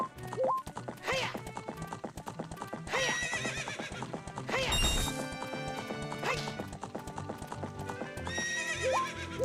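Horse hooves clip-clop and a horse neighs several times in the video game Ocarina of Time, set in the Lost Woods, with bright chiming game music and effects layered throughout, loud and close.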